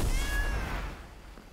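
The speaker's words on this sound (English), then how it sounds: "Now, we pet the cat." A cat in the indie game Blacktail meows while being petted, a short close purring mew with a thin drawn-out tone, fading away over about a second and a half.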